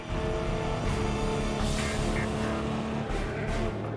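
Audi and Peugeot race cars at a 24-hour endurance race, a loud sustained engine roar with shifting pitch as the cars run close together at speed.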